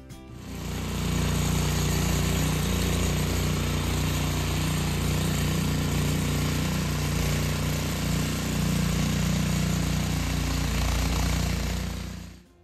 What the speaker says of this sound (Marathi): त्यानंतर दुसऱ्या मशीनच्या साहाय्याने जमीन प्रॉपर लेवल करण्यासाठी तिला अशा प्रकारे उकरून घेण्यात आलं